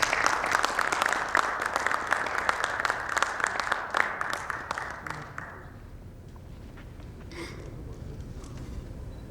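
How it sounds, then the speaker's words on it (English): An audience at a talk applauds loudly and steadily for several seconds, then the clapping fades out into quieter room noise. "Please welcome with a big round of applause."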